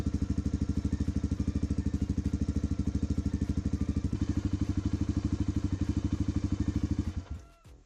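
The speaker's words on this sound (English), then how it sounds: "Let it idle for a few minutes, that way I can check the oil." A Suzuki DR350 single-cylinder motorcycle engine idling nearby, a loud, steady, rapid thumping pulse that runs evenly for about seven seconds and then dies away as the engine shuts off, with no speech.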